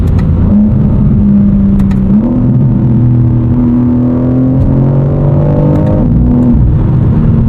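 A BMW accelerates hard, its engine revving up through the mid-range with a loud, rising drone that steps up with gear changes, close and continuous with no talking.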